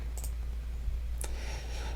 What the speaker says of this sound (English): I'm clicking the wrong shit here.